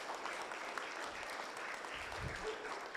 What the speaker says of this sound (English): Let's get a warm round of applause for our panelists.